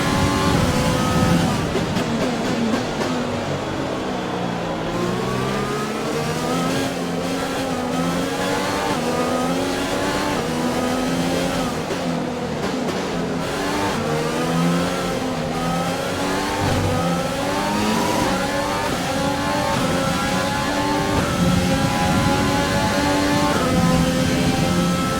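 Formula 1 car engine in the F1 2020 racing game at the Vietnamese Grand Prix, revving continuously and loudly with rising and falling pitch through gear changes, its internal combustion engine badly worn, heard alone throughout.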